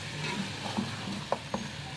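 Korma for Sindhi biryani fries and is stirred in a pot, a low steady sizzle with a few soft spoon scrapes and clinks, close and moderately quiet.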